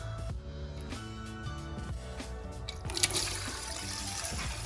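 Engine oil mixed with antifreeze draining out of a Scion FRS, heard as a steady, continuous liquid pour and trickle that stays close and fairly loud throughout with no talking.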